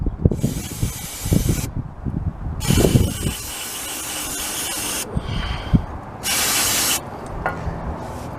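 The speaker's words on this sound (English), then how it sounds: "Carb cleaner over here." Carb cleaner sprays from an aerosol can in several loud, close bursts of hiss, each lasting one to two seconds, while handling clatter and clunks from work on a Massey Ferguson T20 tractor come between them.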